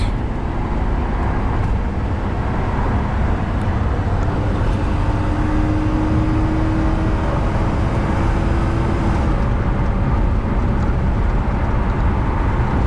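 A 2007 Ford Crown Victoria NYC taxi accelerates hard toward top speed, its engine note rising steadily under a loud, constant roar of road and wind noise heard from inside the cabin.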